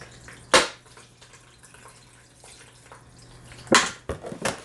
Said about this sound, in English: I'm going to rinse these really pretty well.